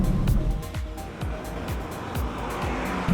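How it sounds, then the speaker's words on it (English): A car on Dunlop Direzza DZ102 summer tires runs hard through a slalom, with rhythmic surging engine and tire noise from close by and repeated sweeps as it changes direction. "Now I'm driving the Dunlop Direzza DZ102"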